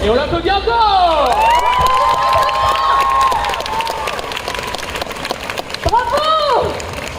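Clapping and cheering from a crowd at a cosplay runway show at the GeekFest in Bordeaux, loud and steady, with shouts and whoops rising above it.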